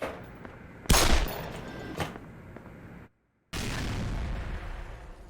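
Video game explosions in Black Mesa go off in a lab containment area, two sharp booms followed by a rumbling tail, a brief total silence, then a renewed dense roar.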